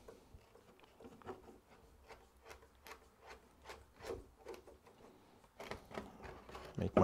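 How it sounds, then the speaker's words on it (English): Body reamer twisting holes through a plastic RC car body shell, a series of short scraping rubs and rasps in quick irregular bursts, close and moderately quiet, with no talking. "Now I'm gonna grab the body reamer,"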